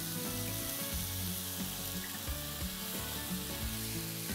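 Cooking wine is splashed into a hot pan of pork and hisses, followed by a continuous close sizzle with faint stirring knocks and no speech.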